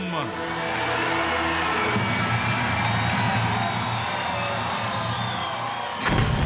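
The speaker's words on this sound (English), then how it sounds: "My lords, my ladies, raise a cheer for the Knights of the Realm!" Crowd cheers and whoops for the knights at a Medieval Times dinner-and-tournament show, a loud, sustained wall of voices filling the arena before cutting off sharply near the end.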